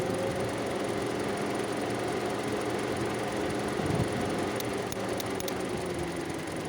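A Kia Seltos radiator cooling fan whirs in a steady, dense drone with a faint cluster of sharp relay clicks near the end, heard up close with nobody speaking.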